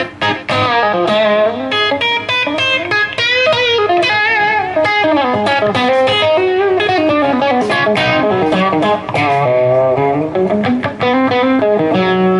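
Heavily distorted electric guitar plays a loud, continuous metal riff with sustained, gritty chords and no vocals.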